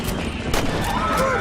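A gunshot in the video game Red Dead Redemption, a sharp burst cutting through ongoing game noise and music, loud and close.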